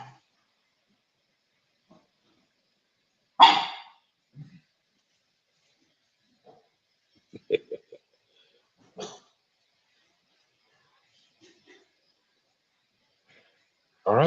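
A pug lets out a few short, gruff barks and snorting grunts, scattered across stretches of near silence, close by and moderately loud, with a faint voice briefly heard.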